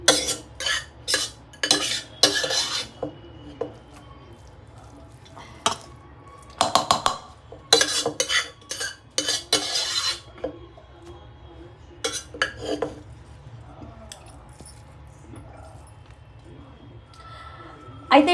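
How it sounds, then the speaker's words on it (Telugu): Pulihora, a tamarind rice, being mixed with a spoon in a pot, with sharp clinks and scrapes coming in irregular bursts and pausing for stretches. A person speaks at times between the clinks. "మేము పులిహోర కలుపుతున్నాం దీన్ని"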